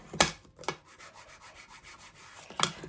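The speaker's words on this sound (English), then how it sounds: "And then I can do this and give that a burnish." A covered A6 notebook is burnished by hand, a few sharp close rubbing strokes over paper followed by a softer steady rub, with no talking.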